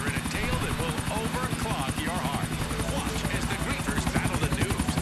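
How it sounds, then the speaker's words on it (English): Helicopter flying in the video game GTA IV, a loud, steady rapid rotor chop with engine whine filling the whole stretch, while several people talk over it. "I'm going to attempt to fly this helicopter using cinematic view."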